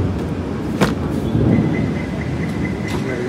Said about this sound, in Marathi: ऐकली का वीज? कसं गणगडलं बघितलंस ना?